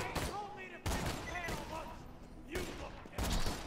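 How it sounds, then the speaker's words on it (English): Bursts of gunfire ring out in the shooter game Borderlands 2, with rapid shots in short volleys over game sounds and a player talking in between. "who else is shooting me?"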